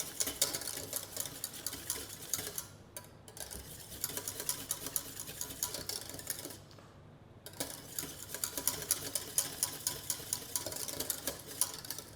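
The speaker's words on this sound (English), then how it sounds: "Keep stirring so that it won't have lumps inside." Pear tart filling mixture stirred in a pan over heat, giving a steady run of soft scraping and ticking strokes, close and continuous with a brief pause midway.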